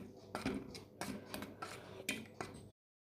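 Soft scraping and clinking of a utensil against a bowl while mixing a meat marinade with oil, several irregular stirring strokes close by, fairly quiet, then silence.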